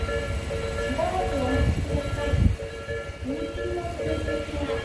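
An up train on the Tobu Isesaki Line pulls away near a level crossing at Takenotsuka, a low steady rumble heard at moderate distance with people talking nearby.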